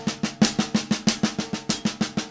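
A snare drum plays a fast, even stream of left-hand sixteenth-note strokes with regular accented right-hand quarter-note hits falling on the beat, close and solo.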